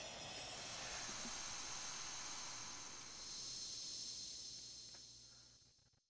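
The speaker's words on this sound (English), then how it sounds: "Waterfall." Waterfall in The Legend of Zelda: Link's Awakening: a steady, bright rushing hiss that holds for about six seconds before fading at the end, heard alone without voices.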